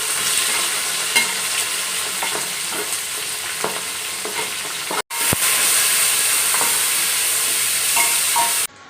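Onions frying in oil for mutton biryani, a strong steady sizzle with clattering stir strokes throughout, briefly cut off midway then resuming, close and loud with no speech.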